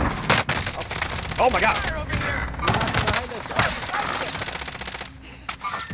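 A video game firefight crackles with rapid bursts of automatic gunfire and scattered single shots at close range, while a player shouts excitedly over the shooting.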